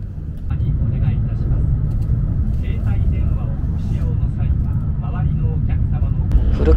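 Interior rumble of a Hayabusa shinkansen running after leaving Sendai station, a steady loud low roar with faint clicks and rattles, continuous for the whole stretch and no voices.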